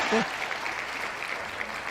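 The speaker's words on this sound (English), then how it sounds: "big applause" A crowd claps in a dense, steady patter of applause that holds evenly from start to finish.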